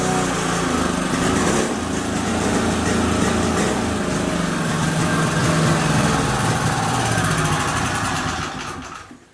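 Small portable gas generator running steadily at close range under a charging load, a loud continuous engine drone with a buzzy mechanical hum, fading out as it shuts off at the very end.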